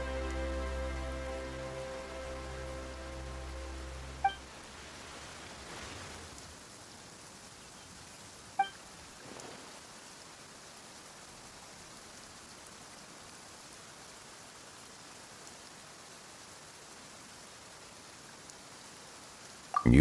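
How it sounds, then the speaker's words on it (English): Steady rain falls across the Fontaine region in Genshin Impact, a soft even hiss of drops filling the scene throughout, quiet and constant, with a few faint clicks and a low tonal drone at the start. "Why is it raining all of a sudden?"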